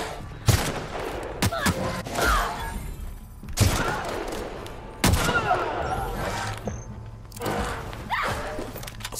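Gunfire erupts during a fight in the video game The Outer Worlds: loud, sharp shots come in separate bursts with heavy thuds and impacts between them, and a voice speaks briefly under the action.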